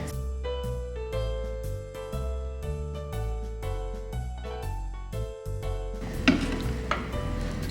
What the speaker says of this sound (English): So we'll be cooking this under medium heat. We'll let the cabbage secrete some of its juice